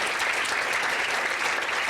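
An audience at a live conversation event claps in a brief, dense and steady burst of applause, even in loudness from start to finish.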